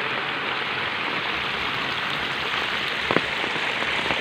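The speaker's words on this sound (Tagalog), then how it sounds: "medyo hindi naman ganong kalakas yung ulan mga kachika pero kahit hindi malakas yung ulan ito na yung tubig yung kachika" Rain falls steadily outdoors while water overflows onto the road, a constant dense hiss of drops on surfaces with a brief louder splash partway through.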